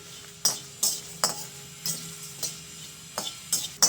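Kadai masala spices dry roasting in a pan, with a rhythmic series of short, close scraping stirs about every half second over a faint, steady background hiss.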